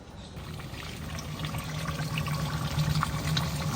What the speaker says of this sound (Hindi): अब इसमें ऑयल डालूंगी